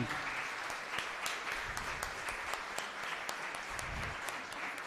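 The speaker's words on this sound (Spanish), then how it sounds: "Un fuerte aplauso para ella" Audience applause for Jacinta Concepción at a Sunday gathering, a steady dense clapping that fills the whole stretch at even loudness with no talk over it.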